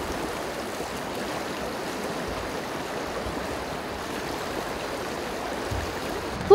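A forest stream swollen with floodwater after logging rushes in a steady, loud, continuous roar that holds level throughout with no voices.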